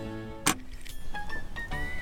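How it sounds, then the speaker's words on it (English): The hood of a Honda E car is popped open with a sharp metallic latch clunk, followed by a few lighter clinks and rattles at close range. "Now, let's pop the hood and show you guys what this beast is all about."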